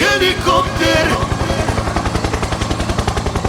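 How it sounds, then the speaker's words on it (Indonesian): A loud rapid thudding of helicopter rotor blades, steady rhythmic chopping, with a brief burst of other sound at the start. "Helikopter"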